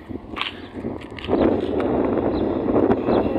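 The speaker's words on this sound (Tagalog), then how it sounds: "Medyo malakas ang hangin." Steady gusting, cold wind roars across the microphone, rising louder after the first second and staying strong, with a few faint knocks underneath.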